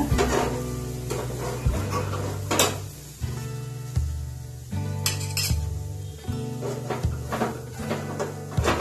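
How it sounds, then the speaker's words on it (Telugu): Paneer roasting in a pan over a medium flame, with loud, repeated scrapes and clinks of a spatula against the pan and soft sizzling underneath. "మీడియం ఫ్లేమ్ లో పెట్టి బాగా రోస్ట్ చేసుకోవాలి"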